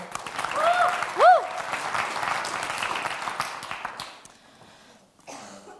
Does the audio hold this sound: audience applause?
yes